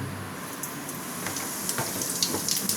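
Whole cumin seeds sizzling in hot oil in a wok, a steady hissing fry with scattered crackles and pops growing more frequent toward the end.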